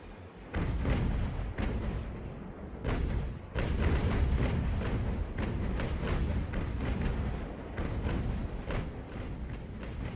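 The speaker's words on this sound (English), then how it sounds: "We should be able to get a nice volley on him right here" Naval cannon volley from an age-of-sail warship in Ultimate Admiral: Age of Sail, a rapid string of heavy booming thuds rolling together for several seconds, loud and dense, with a brief lull before the barrage resumes.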